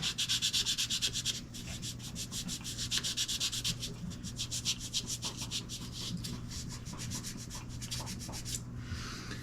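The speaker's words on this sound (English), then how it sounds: "So I'm going to take some 1500 grit. We just want to kind of polish this in." Close, rhythmic back-and-forth rubbing of 1500 grit sandpaper polishing a guitar's finish, quick strokes in bursts with brief pauses, no voices.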